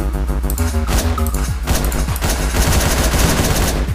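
Shotguns blast in the top-down game Hotline Miami, a quick series of loud, punchy shots with music playing underneath.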